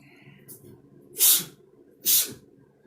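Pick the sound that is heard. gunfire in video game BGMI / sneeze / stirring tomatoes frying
sneeze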